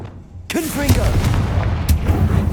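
A Confringo blast spell goes off in Hogwarts Legacy with a sudden loud broadband burst, followed by a rumbling fiery tail and a second sharp crack near the end.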